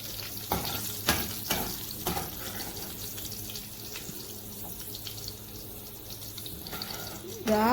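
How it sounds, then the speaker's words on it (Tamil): Garlic frying in a pan after eggplant has been taken out, with a steady sizzle under sharp utensil clanks and scrapes, some splashing water near the end, close and moderately loud, no speech. "இந்த கத்திரிக்காய் எடுத்த உடனே இந்த பூண்டும் வறுத்து எடுத்துக்கணும்."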